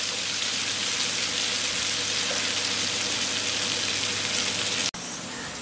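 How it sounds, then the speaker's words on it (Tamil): Onions sautéing in hot oil in a pan for kaadai (quail) chukka, a steady, even sizzle and crackle running unbroken at moderate loudness, with a brief drop near the end. "வெங்காயம் வந்து கொஞ்சம் நல்லா வதங்கணும்"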